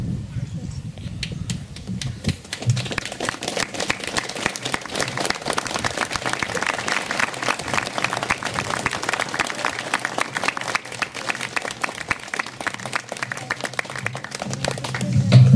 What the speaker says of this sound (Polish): prosimy jeszcze o brawa